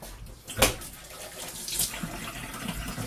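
Hands being washed under a running kitchen tap, a steady close splash of water broken by a few sharper bursts as the hands move through the stream.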